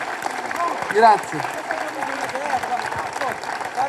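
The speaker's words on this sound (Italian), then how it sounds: "Un applauso." An indoor audience at a newspaper staff event applauds with dense, sustained clapping while someone speaks briefly over it.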